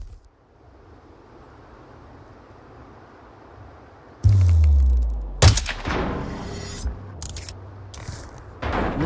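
A sniper rifle shot in Hitman 2 at the Perm 14 prison facility: a single heavy report over quiet ambience, followed by a rumbling low tail and a few scattered sharp impacts and clatters.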